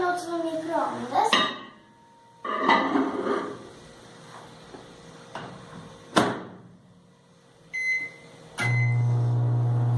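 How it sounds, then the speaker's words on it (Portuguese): Microwave oven heating brigadeiro: clattering of a bowl and door, a few sharp clicks and beeps, then a steady low hum as the oven runs, with a person speaking over the handling sounds. "Agora a gente vai colocar 1 minuto no micro-ondas."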